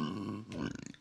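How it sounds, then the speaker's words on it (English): A single deep, drawn-out burp rumbles low, ending in a short series of rough, pulsing croaks. "Oh, excuse me. Oh, that burp was extreme."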